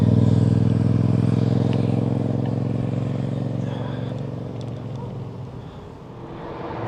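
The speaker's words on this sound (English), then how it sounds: "Motorbike." A motorbike passes on a rural road, heard as a steady engine drone that is loudest at the start and slowly fades away, with wind and road noise from a moving e-bike ride.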